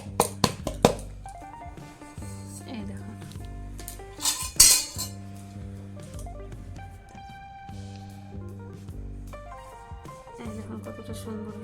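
A metal cake pan clinks and clatters in a few sharp knocks as a warm, egg-free date-jaggery sponge cake is turned out, the brief hits sitting close over steady background music.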